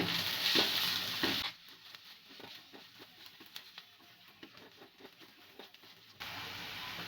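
Potato puff filling with garam masala and chaat masala is stirred in a pan, giving soft scraping strokes and light taps in an uneven rhythm over a quiet sizzle, with no voices.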